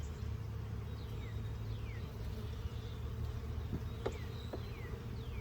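Honey bees drone steadily around an outdoor hive during a full inspection, a dense, continuous buzz close by, with a few thin bird chirps sweeping over it.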